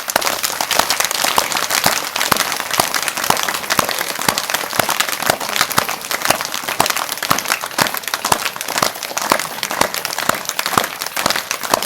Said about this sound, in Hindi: एक बार आप हमारे साथ में ताली बजाएं और जोर जोर से ताली बजाएं